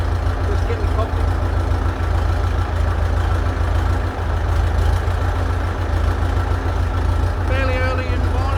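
A sixty-year-old Fordson tractor idles as it warms up on a calm morning, its low diesel rumble steady and close throughout, with a faint bird chirp near the end.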